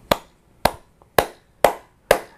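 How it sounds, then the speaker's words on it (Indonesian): Five loud, crisp hand claps at a steady, deliberate pace during a sermon, close and distinct, each ringing briefly with a faint tap between two of them. "Kenapa tepuk tangan"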